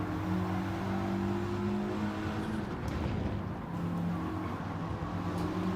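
A race car engine in Gran Turismo 7 revs hard through fourth gear, a steady loud droning whine that dips briefly as the car brakes into a corner, with no talk.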